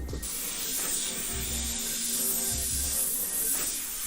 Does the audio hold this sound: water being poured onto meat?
no